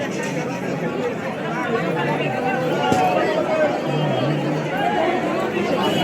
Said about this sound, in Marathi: लय गर्दी बघा मित्रांनो, प्रचंड गर्दी.